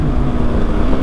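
A superbike roars past in a fly-by on a group ride in cold weather, its loud engine drone close and continuous for about a second with no talk.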